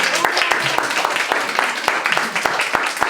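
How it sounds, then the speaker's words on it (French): An audience at a gallery vernissage applauds, with steady, sustained clapping and sharp individual claps nearby, while voices murmur underneath. "Fait que je voudrais qu'on l'applaudisse."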